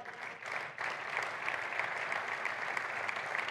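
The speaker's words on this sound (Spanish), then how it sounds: "un fuerte aplauso para ella" An audience at a basketball Hall of Fame ceremony applauds FEB president Elisa Aguilar, with steady, moderately distant clapping that holds evenly for a few seconds.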